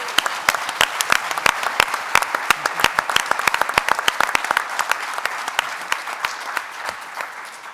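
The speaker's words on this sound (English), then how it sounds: "let's offer one more big, huge round of applause and thanks to our entire panel." An audience applauds a panel at a faith festival program, a sustained round of many hands clapping, loud and close, slowly thinning toward the end.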